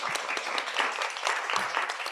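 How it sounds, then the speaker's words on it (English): A conference audience at a cluster meeting at Impact Hub Athens, Greece gives a round of dense, continuous applause, many hands clapping at moderate distance. "A round of applause for everyone."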